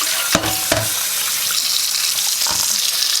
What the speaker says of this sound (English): start washing the yarn with cool water